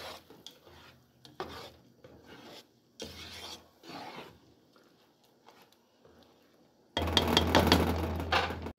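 Food is stirred in a pan with tomato: intermittent scraping and rubbing strokes come in short bursts with quiet gaps, ending in a louder, busier stretch of scraping.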